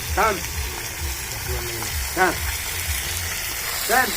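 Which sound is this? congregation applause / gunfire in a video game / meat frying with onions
meat frying with onions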